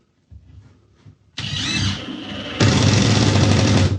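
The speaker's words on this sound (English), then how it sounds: "And to attach it, I'm just going to drive a screw in through the end." A screw is driven into the end of a board for a miter saw station by a power driver, which whirs in two loud sustained bursts, the second louder and steadier, after a brief quieter start.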